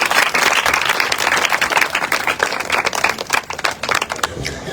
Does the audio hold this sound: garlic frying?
no